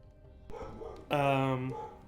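A dog gives a short bark followed by a longer, louder bark with a whining tonal edge, close by in an indoor setting, with quiet speech-like murmur around it.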